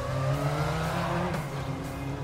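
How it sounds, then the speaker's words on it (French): A white Yamaha motorcycle roars away, its engine a loud, continuous growl with shifting pitch over a couple of seconds, heard alone without voices. "Dans un vrombissement, la Yamaha blanche s'éloigne bientôt"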